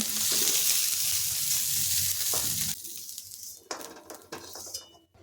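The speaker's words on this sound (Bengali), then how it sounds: "সোয়াবিনটা খুব ভালোভাবে ভেজে নিলাম, এখন এটা তুলে নিচ্ছি।" Soya chunks sizzle steadily in hot oil in a kadai while soya pulao is being prepared. The frying stops partway through, followed by clinks and scrapes of a utensil against the pan as the chunks are lifted out.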